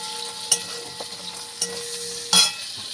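Shrimp frying in oil in a wok, a steady close sizzle with a few sharp scrapes and clatters of a spatula as the pieces are turned over, no talking.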